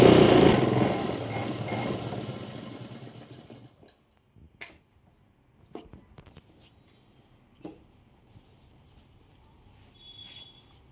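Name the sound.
sewing machine stitching blouse hem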